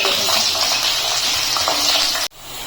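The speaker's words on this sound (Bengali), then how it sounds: "আলুটা আমি একটু ভেজে নেব।" Thin potato slices fry in hot oil with a steady, loud, close hiss that cuts off abruptly near the end.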